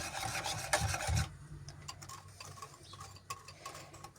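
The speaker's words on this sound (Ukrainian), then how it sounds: "тепер додаємо ці яйця із цукром так, і перемішуємо" Eggs and sugar are mixed into a cherry cheesecake batter, giving close rhythmic scraping and rubbing strokes in a bowl, busier at first and then lighter and more irregular, with no talk.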